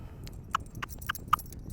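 A horse shifts its feet during groundwork training, a few light hoof knocks and clip-clops spaced unevenly over a second or two, fairly close.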